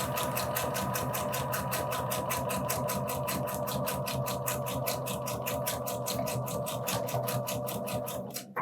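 A domestic sewing machine stitches a bust dart, whirring steadily up close with a fast, even needle rhythm that runs uninterrupted before stopping abruptly at the very end.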